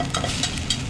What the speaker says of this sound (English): we're going to stir that around, and it's going to take all that liquid from the butter and the vegetables, and we're making a small roux